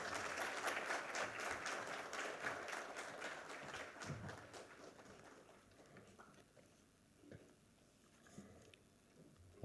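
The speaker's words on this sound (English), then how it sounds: "Please welcome him with a huge round of applause." An audience at a formal infrastructure event claps in welcome for the chief guest, dense applause that is strongest at first and gradually thins into scattered claps, heard at a distance in a large hall.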